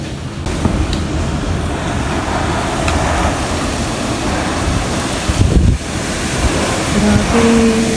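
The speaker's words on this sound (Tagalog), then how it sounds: "Naririnig niyo ba? Yung kalapag ng mga yero." Strong wind roars steadily across a tin-roofed house on a windy day, with galvanized iron roof sheets rattling and clattering in brief bursts, loud and close without pause.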